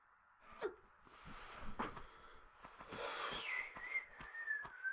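Someone tries to whistle, producing breathy, wavering tones that slide upward and hold a thin note, broken by gasps and puffs of air, fairly close and moderately loud.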